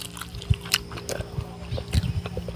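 Crunchy food being chewed up close, with irregular crisp bites and munching sounds over a couple of seconds, no talking.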